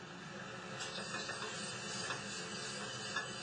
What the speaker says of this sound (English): as you can see, the butter is cooking very fast there